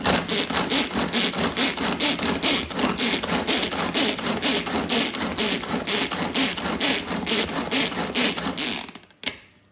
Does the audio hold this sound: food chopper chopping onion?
yes